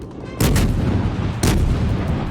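Two heavy, booming salvos from the Tenryu light cruiser's guns in World of Warships, about a second apart, each a loud blast with a rumbling tail.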